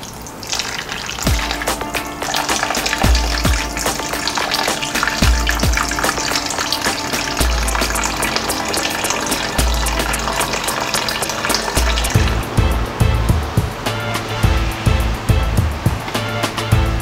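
Fresh water runs steadily from a tap into a container to soak saltfish in a home kitchen, a loud continuous gushing that lasts the whole stretch and softens toward the end, with no talk over it.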